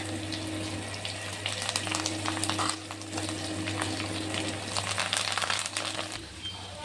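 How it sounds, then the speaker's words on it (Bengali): Soya chunks deep-fry in hot oil, giving a steady crackling sizzle with occasional sharper pops over a constant low hum, close and unbroken. "এগুলোকে ভালো করে আমি তেলে ভেজে নেবো।"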